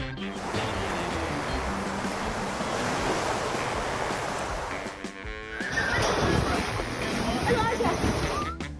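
Ocean waves and surf wash continuously at close range as a dog plays and jumps through the water, with a brief lull before the rushing surf returns louder.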